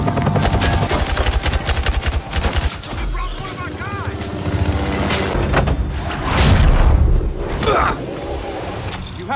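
Rapid machine-gun bursts and single gunshots in a Battlefield Hardline police-versus-criminals shootout, loud and nearly continuous, with booming impacts layered throughout.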